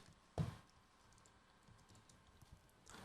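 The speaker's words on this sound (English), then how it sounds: "So instead of history, let's type something else." Typing on a computer keyboard in a computer classroom: a sharp key click near the start, then faint scattered taps and a few more soft clicks near the end, heard close and alone.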